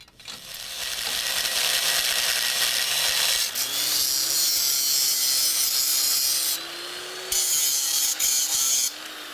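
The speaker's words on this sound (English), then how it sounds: "So we'll get out the cutoff tool and we'll take care of that." A cutoff tool grinds steadily through a metal bracket on a Super Duty truck being fitted with an 8-inch lift kit, a loud continuous abrasive whine with a rising motor tone that briefly dips before resuming.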